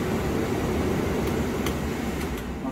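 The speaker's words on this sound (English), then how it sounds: "I'll put the heat on." The heater fan on an electric school bus blows steadily, a close, even rush of air that holds at a constant level with no voices over it.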